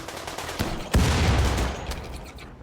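Machine pistol gunfire in a video game, rapid bursts and a heavy report near the middle, with continuous dense noise rumbling underneath and no voices.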